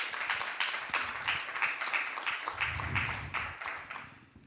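An audience claps for a film at a screening before a director Q&A, a dense patter of hands with brief swells, lasting several seconds at moderate volume.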